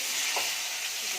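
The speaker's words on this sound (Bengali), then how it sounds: "এবার আমি এই সিমটা দিয়ে দিলাম" Flat beans frying in a pan, a short burst of steady, even sizzle close by with one soft stirring bump, no talk.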